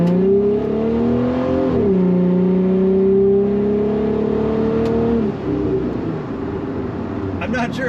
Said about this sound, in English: This car sounds great.